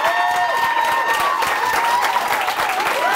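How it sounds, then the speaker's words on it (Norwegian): A stand-up comedy audience bursts into loud, dense applause, many hands clapping in a continuous close roar that holds steady throughout, with a sustained tone and some voices faintly audible beneath. "så gi meg en god applaus"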